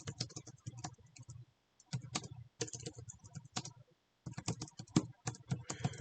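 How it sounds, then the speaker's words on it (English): Bursts of rapid keyboard typing, clicking keys in quick runs separated by short pauses, close and fairly quiet. "you hear me typing them"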